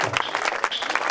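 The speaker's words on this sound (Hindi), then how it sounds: "सभी जोरदार ताली बजा के।" A crowd at a Hindu devotional gathering celebrating Krishna's birth claps loudly for a donation, a short, dense burst of close hand clapping with no pause.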